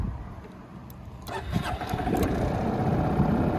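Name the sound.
Honda Forza MF08 scooter engine starting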